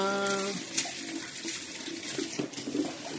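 Water running steadily from a tap during a dog's bath, a close, constant gushing splash with a few louder splashes and a short tonal whine at the start.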